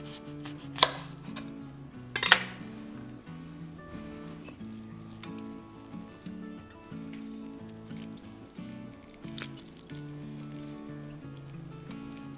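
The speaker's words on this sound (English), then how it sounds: "So let's put that all back. And slice up some more." Lemons being sliced on a board for a no-bake lemon mousse: two sharp close knife cuts early on, then softer scattered knocks and light kitchen clatter over quiet background music.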